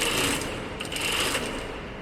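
A sewing machine stitches an elastic waistband on beginner pants, running in a steady, fast mechanical whir from start to finish, close and alone.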